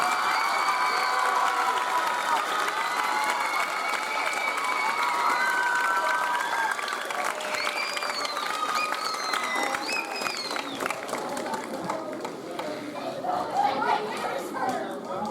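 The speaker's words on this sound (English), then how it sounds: "Let's give them a round of applause." A school spring band concert audience applauds the band staff with steady clapping and some cheering, while chatter and voices rise as the clapping fades.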